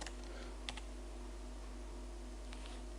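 Keys clatter on a computer keyboard in a few light, sparse clicks over a steady low electrical hum, quiet and close.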